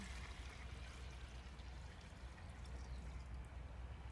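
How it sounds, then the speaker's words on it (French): A litre of water poured onto soaked almonds, a steady low rushing flow without a break, quiet and close, with no talking. "Alors, on va mettre 1 litre d'eau."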